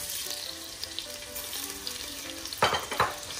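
Seafood shells frying in a little oil for paella, a steady close sizzle with a couple of sharper scraping stirs near the end.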